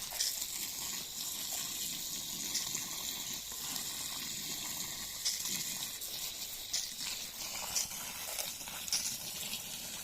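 Water pours steadily from a hose or can onto bone-dry Trachycarpus fortunei palms that have just been potted up, a continuous close splashing and gushing that runs for about ten seconds with small surges and no talk.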